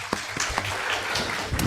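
Audience applause at a medical conference of family physicians, a short burst of scattered clapping filling the hall with no voices over it.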